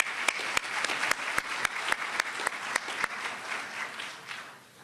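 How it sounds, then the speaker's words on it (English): Audience at an awards ceremony applauding, sharp individual claps standing out over a dense wash of clapping that fades toward the end, moderately distant. "Give yourselves a round of applause as well for being here."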